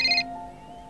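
A phone ringtone sounds indoors in a Hindi TV serial scene: a brief, bright electronic trill that cuts off, followed by fainter sustained tones.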